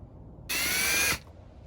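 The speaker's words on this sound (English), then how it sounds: "So we're going to start drilling and start installing this" A 1/4 inch step drill bit bores through a Can-Am Ryker part for a fog light install, one steady high-pitched whining burst of just under a second that stops abruptly, close and loud.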